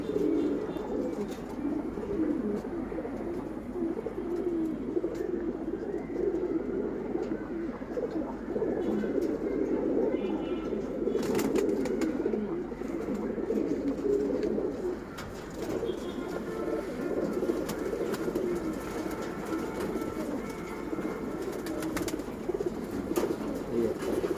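Soft, continuous cooing from several silver pigeons fills the whole stretch, steady and close, with an occasional flutter of wings.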